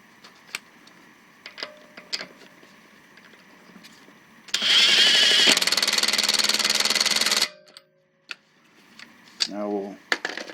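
A Kobalt 24V cordless impact driver runs on car lug nuts in one loud, close burst of rapid hammering that lasts about three seconds. Scattered clicks and handling clatter come before and after the burst.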